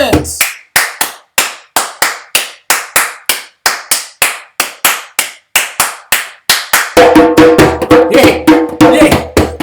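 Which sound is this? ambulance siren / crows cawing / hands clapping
hands clapping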